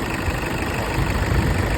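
A 2.5-litre diesel pickup engine idles steadily, a low rough rumble with a constant clatter, close by and alone.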